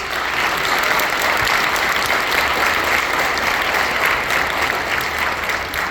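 Loud, sustained audience applause in a performing arts center after a county honors band concert, a full hall clapping evenly the whole time.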